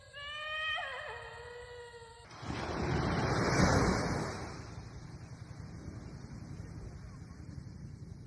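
Ocean waves breaking on the shore, a steady rushing surf that swells loudly for a couple of seconds then settles into a continuous wash, following a brief high-pitched cry at the start.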